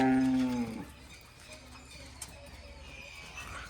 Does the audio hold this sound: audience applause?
no